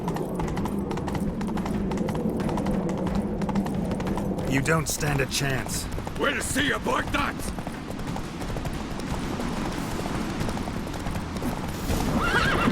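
Hooves clip-clop rapidly as a horse gallops in a video game, with a whinny in the middle; voices of characters talk over the rhythmic pounding throughout.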